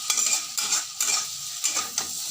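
Taro stolons with cumin and turmeric frying in a pan on low gas, stirred with a utensil that scrapes and clinks in repeated strokes over a steady close sizzle, with no voices.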